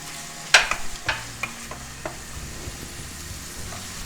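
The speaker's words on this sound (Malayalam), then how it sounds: "ഇനി നമുക്ക് കുറച്ച് കറിവേപ്പില അതിലേക്ക് ഇട്ട് കൊടുക്കാം" Curry leaves dropped into hot oil in a frying pan for Kerala-style beef chaps give a sharp crackling burst, then a few quick spits and pops that fade into a low steady sizzle.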